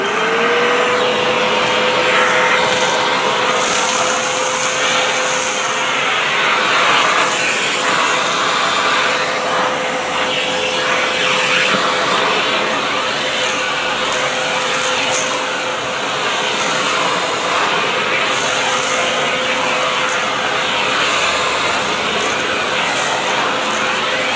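A Vevor 4-gallon, 5 HP peak wet and dry vacuum runs loud and steady, pulling up damp marine-grade carpet with a continuous whining roar and slight fluctuations in pitch.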